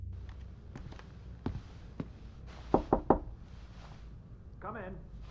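A few sharp knocks on a door in the video game Evidence, three quick raps close together amid other soft thuds, with a voice starting right afterward.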